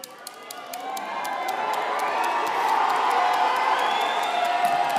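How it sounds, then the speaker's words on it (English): Convocation crowd cheering and calling out for graduates in a large hall, a sustained wash of voices and shouts that builds and stays loud throughout, with scattered claps. "Find them in this crowd somewhere, call out, let them know how proud you are of them."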